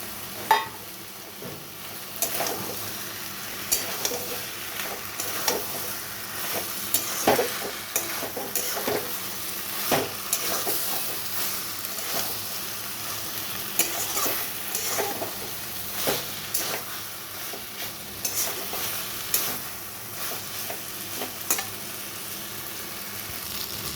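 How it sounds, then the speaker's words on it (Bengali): A hilsa fish head fries in a pan for a Bengali chachchari with Malabar spinach stems, giving a steady sizzle broken by frequent scrapes and clatters of stirring, close and alone for the whole stretch. "এখানে আমি ইলিশ মাছ মুড়োটা দিয়ে দিচ্ছি।"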